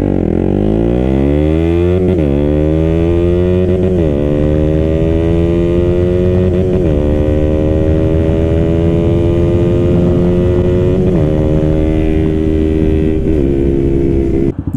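KTM Duke 125 motorcycle pulling away at full throttle, its engine note climbing sharply through repeated rising sweeps, each followed by a brief dip as the clutch and gears change, loud and close with no talk.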